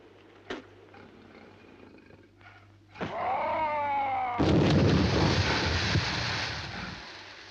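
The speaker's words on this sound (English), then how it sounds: "I'll try a gas grenade." A gas grenade goes off on a 1956 science-fiction film soundtrack. A sharp crack comes first, followed by a rising, wavering whoosh. Then a loud, roaring blast and rumble sustains for several seconds before fading slightly.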